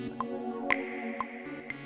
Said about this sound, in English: Sound like a water drop.